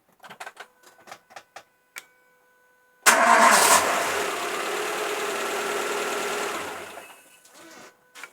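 A car engine cranks and catches, powered by a Lidl Ultimate Speed 12000 jump starter booster with the battery bypassed. The engine then idles loudly and steadily for several seconds before fading. Short clicks come first.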